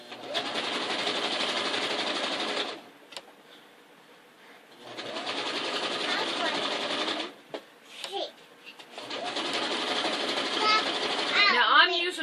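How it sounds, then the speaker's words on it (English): Zigzag stitching with red thread as a sewing machine hems over lace: three long, steady whirring runs separated by short pauses, close and loud, with a voice and brief knocks in the gaps. "I'm just going to hem right over top of where I hemmed it at."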